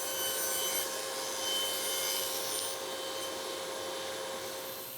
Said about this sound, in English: I can move over to the table saw and cut the panels down to width